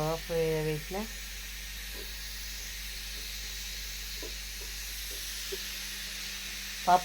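A pressure cooker of dal with drumstick leaves gives a steady, even hiss of steam on the stove before the whistle, close and continuous throughout, with a brief voice heard at the start and again at the end.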